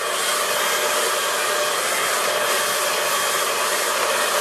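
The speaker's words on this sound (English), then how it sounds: "I'm going to take the hairdryer, just give it a quick dry" A hairdryer blowing steadily on a wet watercolour landscape painting, a loud continuous airy roar with no pauses.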